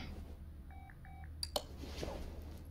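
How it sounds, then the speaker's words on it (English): A phone sounds faintly in the background of a home garage where a 1971 Chevelle is being built: two short paired electronic tones, followed by a couple of sharp clicks, over a steady low hum. "You hear that? My phone in the background."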